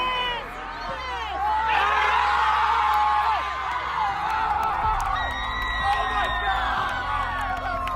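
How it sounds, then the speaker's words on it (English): A loud stadium crowd roars and cheers continuously after an overtime header goal ends a district final soccer match, with whoops and shouts rising over the sustained din. "The crowd was insane"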